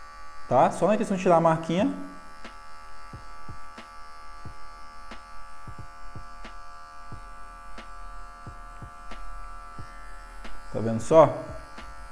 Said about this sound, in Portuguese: A máquina sem pente. Começar com a zero regulada, ó, zero alto.